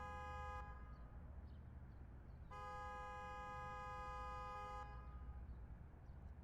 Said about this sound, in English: That is a lot of horn honking.